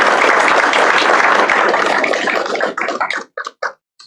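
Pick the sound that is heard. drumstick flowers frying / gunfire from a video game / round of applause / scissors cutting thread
round of applause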